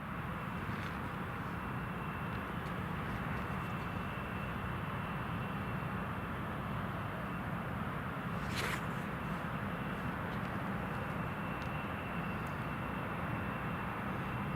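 British Airways aircraft approaching to land at Newcastle International Airport in misty weather, a steady low engine roar held at a constant distance, with a faint brief click partway through.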